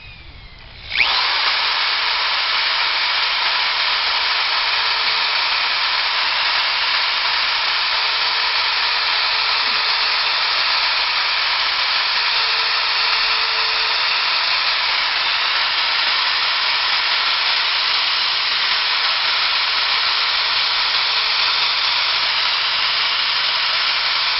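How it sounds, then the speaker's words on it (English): A power drill whirs continuously at high speed drilling pilot holes in wood for a swing set, a loud steady whine that starts abruptly and holds for the whole stretch. "now let's drill some pilot holes and not put a hole in my head"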